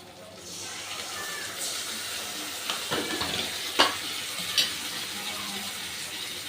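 Yogurt-coated spice masala with turmeric and salt frying in hot oil, a steady close sizzle and hiss with a few sharp crackles and stirring clicks.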